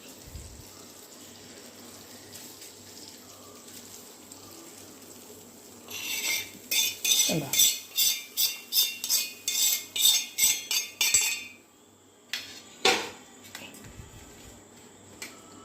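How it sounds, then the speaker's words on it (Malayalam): Date pickle is poured and spooned into a container, giving a run of rhythmic clinks and scrapes of a utensil against the vessel that is loud and close, with wet sloshing in between and a few separate knocks at the end. "ഇനി നമുക്ക് ഞാൻ ഈ മാറ്റി വെച്ചിരിക്കുന്ന ഈ പാത്രത്തിലോട്ട് ഒഴിച്ച് വയ്ക്കാം"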